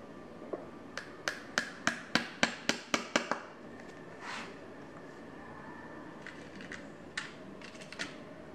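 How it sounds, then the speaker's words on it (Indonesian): Rapid series of about a dozen sharp hammer taps driving nails into a sandal insole, close and crisp in an even rhythm, then a pause and a few scattered lighter knocks. "Kemudian kita paku ya."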